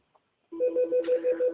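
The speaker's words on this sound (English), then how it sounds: "my phone is ringing." A mobile phone rings during an online community meeting, a steady repeating electronic ringtone pulsing about five times per second, clear and close, starting after a brief silence with no talk over it.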